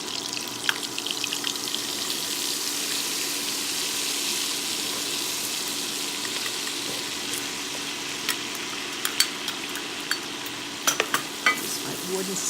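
A flour and butter roux for crawfish and shrimp étouffée is stirred with a wooden spoon, a steady hissing sizzle filling the clip with faint scrapes and light clicks toward the end; no speech.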